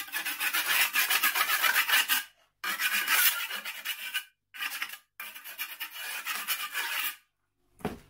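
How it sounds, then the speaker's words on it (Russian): Hand tool scraping excess mortar off freshly jointed brickwork, a rough rasping scrape in repeated rhythmic strokes, loud and close, broken by short pauses between bursts, with no talk. "Дальше убираем основной раствор."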